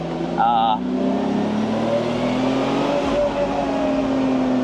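A car engine revs and roars steadily up close, its pitch rising and sliding, with a voice speaking briefly near the start.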